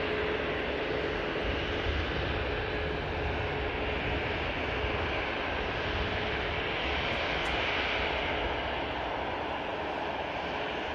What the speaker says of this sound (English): EasyJet heading out to La Rochelle.